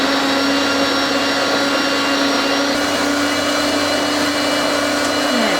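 An old Moulinex mixer runs steadily and loudly for the whole stretch, a continuous motor whine with a broad rushing hiss, shifting slightly in pitch partway through, with no talk over it.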